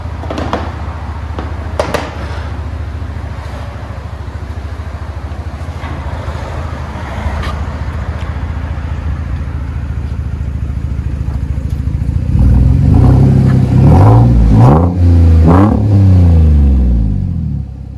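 A Chevy Silverado 4.3L V6 pickup with a Kooks straight-through exhaust idles with a steady low rumble, then revs sharply several times, a loud, deep, throaty roar building and falling close by.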